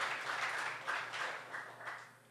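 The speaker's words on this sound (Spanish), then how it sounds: "Si el Señor merece un fuerte aplauso" Applause from a church congregation, a steady wash of many hands clapping at moderate distance throughout, with no voices over it.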